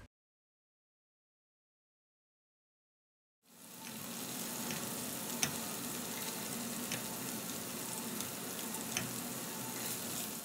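Chicken frying in butter and oil in a pan, starting after several seconds of silence and then a steady, close sizzle with small pops and ticks that continues alone.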